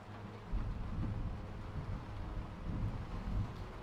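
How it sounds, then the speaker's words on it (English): Rain on a roof with light thunder in Skyrim, a low continuous rumble and wash of rainfall, steady and fairly soft with gentle swells of deeper thunder. "the sound of rain on the roof with light thunder"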